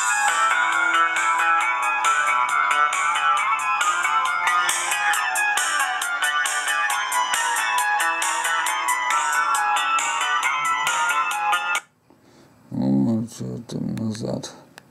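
Fly FF 178 mobile phone playing a ringtone through its own loudspeaker, a bright, steady, rhythmic melody lasting about twelve seconds, then someone speaks.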